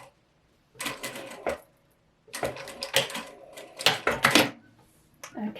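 A sewing machine stitches upper diagonal dart tucks in short close bursts, with stops and pauses between runs of rapid clattering needle strokes.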